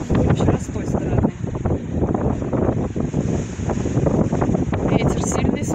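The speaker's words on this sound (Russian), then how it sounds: "Ветер сильный с моря." Strong wind blowing in off the stormy Black Sea on a cold day, a steady loud rush buffeting the microphone with surf rumble beneath, continuous throughout with no speech.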